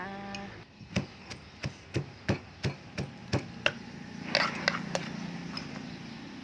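Fresh bamboo shoots being pounded coarsely in a mortar: a steady series of about ten sharp, close thumps, slightly irregular, followed by a few quicker lighter knocks with soft scraping between.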